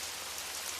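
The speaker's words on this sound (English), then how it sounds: "the rain started up again, a steady drizzle pattering against the window pane." Steady drizzle of rain pattering against a window pane, an even, soft hiss of drops with no other sounds, close and quiet throughout.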